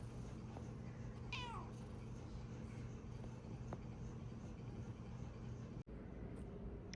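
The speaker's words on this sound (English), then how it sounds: "Here's the other cat." Pet cat at home gives a single short, rising meow early on, fairly faint and brief against a steady low background hum.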